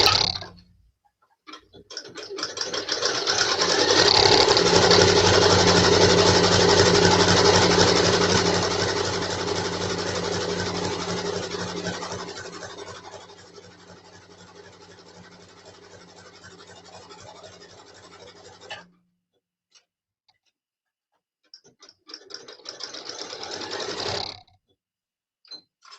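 A sewing machine stitches an applique pattern on quilt fabric, running in a fast, even mechanical chatter that gradually slows and fades, stops, then resumes for a short final run.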